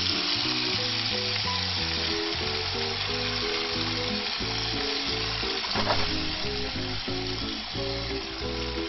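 Tomato sauce with garlic and basil simmering in a pan, a steady dense bubbling sizzle that stays even and close throughout, with a low rhythmic hum running underneath.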